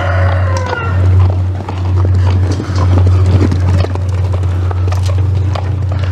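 A spirited horse clip-clops at an outdoor animal market, hoofbeats ringing loud and close in uneven bursts over a constant low electrical hum, with a rooster crowing in the background.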